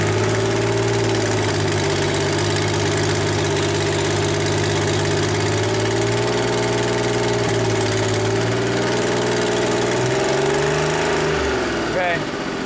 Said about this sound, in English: I wish it didn't have the exhaust leak because the engine's good.